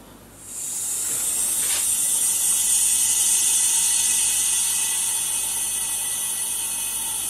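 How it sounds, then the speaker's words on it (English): Air hisses steadily into a resin stabilising vacuum chamber as the vacuum is released slowly, used for stabilising Blue John and black amber with cactus juice resin. A brief click starts a loud, continuous close hiss that softens slightly toward the end. "first thing we'll do then is release the vacuum"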